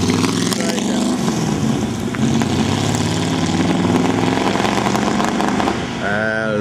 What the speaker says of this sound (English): here we have the car running